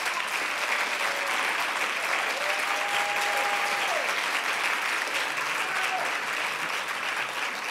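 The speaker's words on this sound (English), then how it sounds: "The reason there is so much cheering" Sustained, even applause with cheering from a large lecture audience, steady and fairly loud throughout, with a few voices rising above the clapping.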